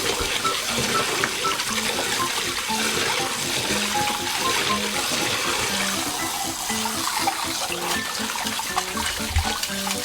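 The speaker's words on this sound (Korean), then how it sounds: "찬물에 헹궈줄게요." Cooked noodles are rinsed under cold running water, a steady close stream of splashing and trickling with light knocks from handling throughout.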